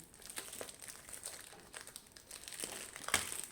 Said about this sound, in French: je n'arrive pas à ouvrir le film